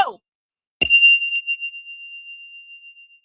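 A meditation chime is struck once after a brief exclamation, ringing out with a bright, clear metallic tone that decays slowly and evenly over several seconds.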